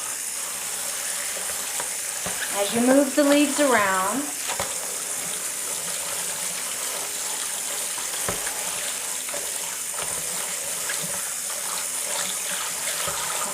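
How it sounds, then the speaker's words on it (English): Cool tap water runs into a bowl while kimchi cabbage leaves are rinsed, a steady close splashing wash with a short gurgling swell early on and a voice speaking over it. "Let the bowl fill up with water."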